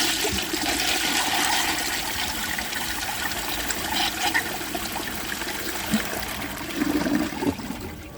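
A 1934 Bowers pottery toilet flushes a washcloth, a steady rushing gush of water with gurgles near the end, close and loud throughout.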